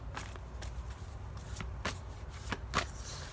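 Tarot cards are shuffled close by in several quick rustling, slapping bursts over a quiet room background, with no one speaking.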